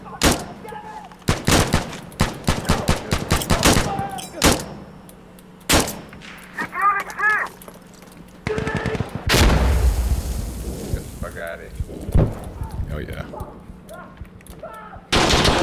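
Gunfire in the video game Insurgency Sandstorm: bursts of rapid rifle shots and single sharp reports, loud and close, with booming impacts and brief talk between volleys.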